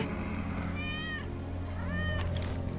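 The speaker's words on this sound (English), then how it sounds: "That's Wedge's cat." A cat meows twice in the Final Fantasy VII Remake video game, two short rising-falling mews about a second apart, heard over a continuous low game ambience.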